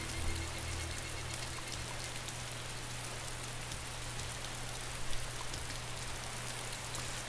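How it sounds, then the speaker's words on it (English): Steady rain falls in the video game DayZ, an even broadband hiss of drops on surfaces that continues for the whole stretch, moderately loud, with a low hum underneath and no talking. "Running in the rain, I'm running in the rain."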